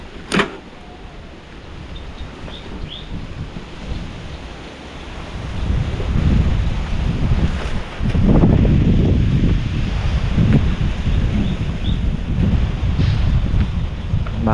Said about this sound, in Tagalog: Lakas pa ng hangin, no?